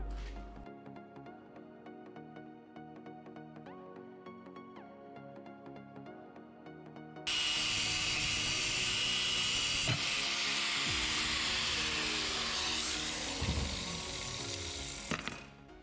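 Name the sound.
angle grinder cutting disc working on steel filter wrench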